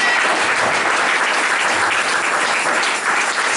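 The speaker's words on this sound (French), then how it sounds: "il faut acclamer Jésus" A church congregation applauding and cheering for Jesus, dense, loud, continuous clapping from a large crowd throughout with no pauses.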